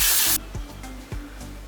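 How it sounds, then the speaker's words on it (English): Amika Undone Volume and Matte Texture Spray hisses out of its can in one short, close burst lasting under half a second, followed by faint handling noise. "This is the Amika Undone Volume and Matte Texture Spray."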